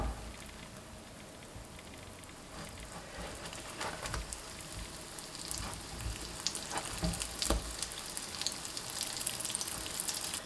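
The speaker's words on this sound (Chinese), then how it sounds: "油热以后放入生坯， 盖上盖子，加快成熟。" Raised flatbread dough rounds sizzle in hot oil in a covered pan, a steady close frying hiss with scattered crackles and pops growing slightly busier over time; no talking.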